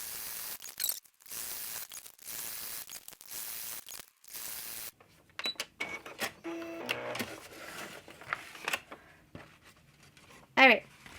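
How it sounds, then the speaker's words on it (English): A sewing machine stitches repeatedly over the same line on a paper journal page, giving short, uneven mechanical runs with gaps, heard close while a person talks throughout. "And I'm going to sew over the same line differently 2 or 3 times."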